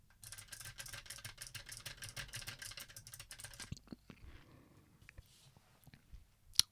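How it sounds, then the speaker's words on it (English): Computer keyboard keys clicked rapidly on a desk, picked up through a Rode Procaster microphone: a dense, steady run of close, crisp taps lasting several seconds, then sparse scattered clicks and a final sharp knock. "And now I'm going to click on the keyboard."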